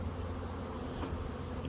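Carniolan honey bees hum at newly installed Langstroth hives on a ranch, a faint, continuous low drone with one brief louder pass near the middle.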